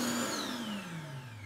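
Revair hair dryer and straightener machine switched on, giving a loud, steady motor whine that slides downward in pitch as it settles, heard close and alone over about a second and a half.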